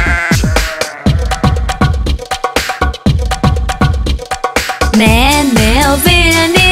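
Bleating sheep sounds in a Portuguese-language children's song, rhythmic plucked accompaniment with a wavering, bleat-like sung call rising loudly over the music near the end.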